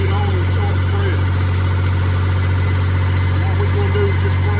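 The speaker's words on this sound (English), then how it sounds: "Let the engine warm up before we actually pull it on and start spreading." A truck engine used for septic tank waste land application idles while warming up before spreading, a loud, constant low rumble with a steady hum and slight vibration throughout, no change in pace.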